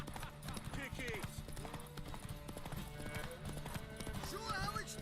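A horse galloping in The Witcher 3, steady rapid hoofbeats and a whinny, up close and mixed under spoken game dialogue.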